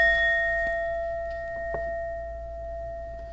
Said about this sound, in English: we're going to ding the bell